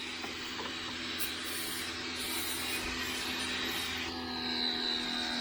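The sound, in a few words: hissing air from a leaking hose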